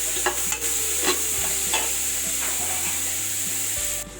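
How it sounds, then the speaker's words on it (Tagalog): Ground beef sautéing in a pan for spaghetti in tomato sauce, a steady sizzle with repeated scraping and stirring strokes of a utensil against the pan, close and loud over a low background hum. "Sangkutsahin natin mabuti ang ating meat"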